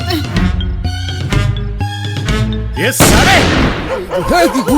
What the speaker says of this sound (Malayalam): വെടി പൊട്ടി.